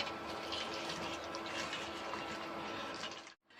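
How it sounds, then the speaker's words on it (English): Hot jaggery syrup poured through a filter, a steady close splashing, trickling pour that runs evenly and then cuts off abruptly near the end. "Now we have to filter it and take, because dirt will be there"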